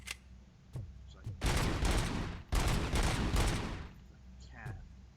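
Rapid gunfire bursts from the video game RoboCop: Rogue City, two long loud volleys of shots with short pauses between, plus a few single shots and impacts before and after.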